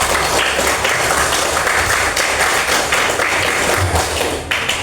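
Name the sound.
classroom applause for the students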